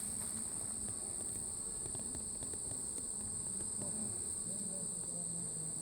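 Honeybees buzz in a dense, steady drone around an open hive during an inspection, a close continuous hum with faint clicks and no talking.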